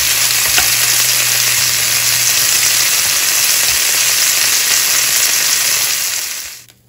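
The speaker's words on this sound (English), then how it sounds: "Reverse sear New York strip." A New York strip steak sears in a hot pan with a loud, steady sizzle and crackle that runs unbroken for several seconds before cutting off abruptly at the end.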